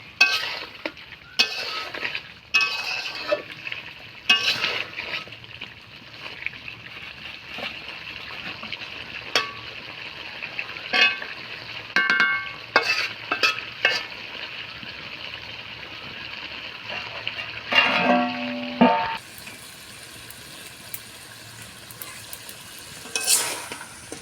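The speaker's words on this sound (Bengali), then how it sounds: "জল শুকানো পর্যন্ত এটাকে ভালোভাবে কষিয়ে নেব।" Country chicken meat is fried and stirred in a pan until its released water cooks off, with repeated scraping spoon strokes and clinks over a continuous close sizzle, ending in a louder burst of hissing.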